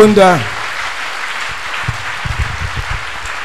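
A church congregation breaks into applause and cheering, a dense wash of clapping that follows a brief voice at the start and carries on steadily with scattered louder bursts.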